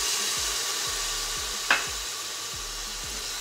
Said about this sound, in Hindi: अब इसे भी अच्छे से मिक्स करेंगे